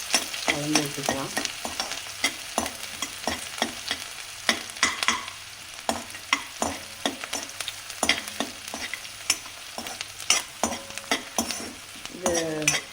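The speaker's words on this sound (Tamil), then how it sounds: "இது ரொம்ப டீப் ஃப்ரை பண்ண வேண்டாம், ஒரு பாதி வதங்கினா போதும்." Chopped onion and cumin sautéing in a pan for restaurant-style paneer butter masala, a soft steady sizzle broken by frequent close scrapes and clinks of a spoon stirring against the metal.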